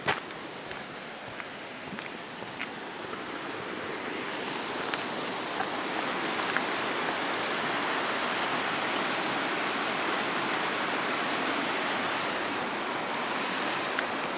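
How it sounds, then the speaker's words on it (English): A river flows through dense fern forest on New Zealand's North Island, a broad steady rushing roar that swells slightly and stays constant, with faint footsteps early on and no speech. "Definitely hear the river."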